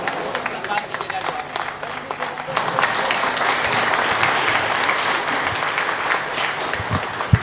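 An audience at an All India mushaira claps steadily to welcome poet Jauhar Kanpuri, dense continuous applause at an even, fairly loud level for several seconds.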